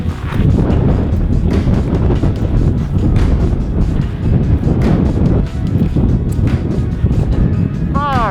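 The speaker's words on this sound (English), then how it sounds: "It's a little windy." Strong wind roars and buffets across an open mountain ridge in the White Mountains of New Hampshire in winter, a dense, constant, loud rumble that gusts throughout.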